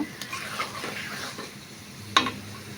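Beef being stir-fried and stirred in a pan for a beef and potato curry, a low steady sizzle with soft scraping of a utensil and one sharp metallic clink near the end.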